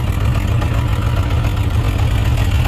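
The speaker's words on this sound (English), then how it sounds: "So there is a misfire in that very cylinder there" A motorcycle engine with a misfiring cylinder runs steadily close by, a loud continuous low rumble with no speech over it.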